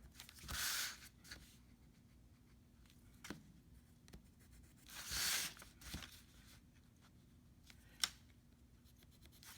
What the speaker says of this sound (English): I'm going to mark off or put a tick mark at 2 inches in several spots along the piece of paper